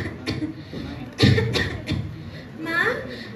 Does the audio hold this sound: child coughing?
yes